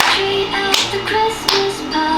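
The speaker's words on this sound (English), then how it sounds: "clap your hands" Steady hand claps mark a fitness class, landing at a regular, even pace over continuous background music.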